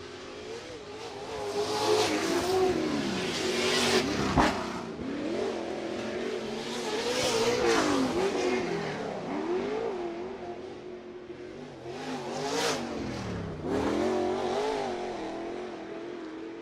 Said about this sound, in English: both trucks are swinging side to side coming through that rhythm section